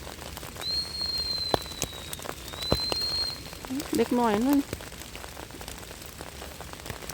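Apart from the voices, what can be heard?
rain falling in a German forest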